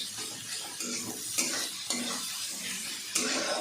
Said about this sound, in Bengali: পেঁয়াজটা এখানে ভালো করে ভেজে নিতে হবে।